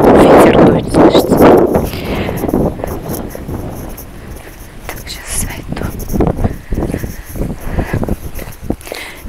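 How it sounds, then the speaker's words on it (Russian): Wind gusts buffet the microphone in loud, rough bursts outdoors in Ilovlya, then ease into a steadier blowing with scattered thumps. "Ветер дует, слышите?"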